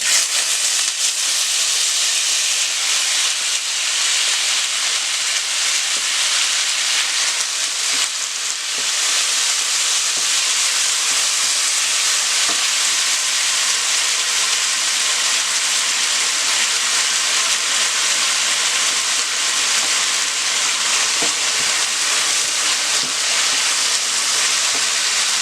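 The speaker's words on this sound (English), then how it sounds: "I have my oil going and I'm going to add all of my vegetables that I cut up." Vegetables frying in hot oil: a steady, close sizzling hiss with light crackles, running without a break and with no talking.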